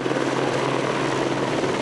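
Firefighters' rescue helicopter flying over the Serra da Mantiqueira mountains during a search for a missing French athlete, a loud, steady rotor and engine roar that stays constant throughout.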